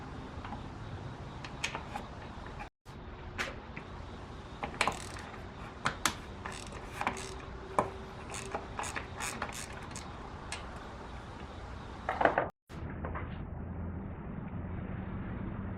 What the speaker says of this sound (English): right now what I'm doing is taking the bolts out